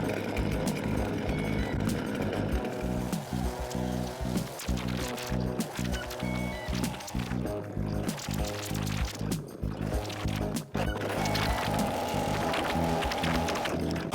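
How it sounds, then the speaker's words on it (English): A cheap Giantz 92cc gas chainsaw running continuously at full throttle while cutting, a loud, dense engine roar with slight pitch shifts as the load changes. "let's put this chainsaw to the test."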